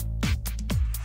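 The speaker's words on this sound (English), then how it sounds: "Now the sustained is just simply sustained notes" Electronic bass notes are held as sustained tones over a dance beat in a remix arrangement, two long swelling notes with drum hits in a short loud loop.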